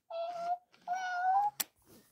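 Hatchimals baby toy giving two drawn-out electronic cat-like meows, close and fairly faint, followed by a brief click.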